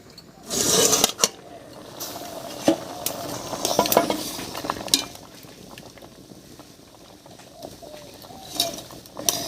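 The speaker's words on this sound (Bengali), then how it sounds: "এবার ঢাকাটা তুলে নিচ্ছি" A lid comes off a cooking pot of simmering potato and dried-fish lentils, a clattering metallic clink near the start, followed by soft bubbling, occasional utensil taps and faint kitchen noise.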